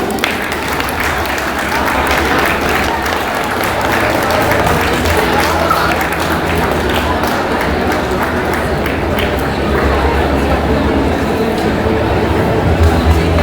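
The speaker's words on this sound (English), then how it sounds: "Children, you should not stop clapping." Schoolchildren in a large group clap steadily and continuously at a school swearing-in ceremony, a dense wash of applause with faint voices mixed in.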